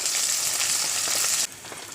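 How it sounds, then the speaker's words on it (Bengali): Chopped onion frying in hot oil in a pan: a loud, close sizzle that drops off sharply after about a second and a half, leaving a quieter hiss. "এখন আমি পেঁয়াজ কুচি দিয়ে দেবো দিয়ে ভালো করে বাদামি কালার করে ভেজে নেব"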